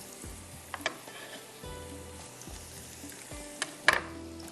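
Garlic and black peppercorns sizzle gently in hot oil for a tadka, a faint crackling hiss with a few soft clinks of a utensil against the pan.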